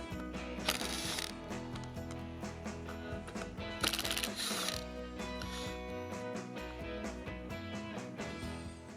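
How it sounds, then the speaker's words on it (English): A driver backs Torx bolts out of the handle of a Stihl leaf blower, making close ratcheting and clicking mechanical sounds in uneven bursts, with no voices. "I separated the handle halves to get to the carburetor linkage by taking out these 3 Torx bolts."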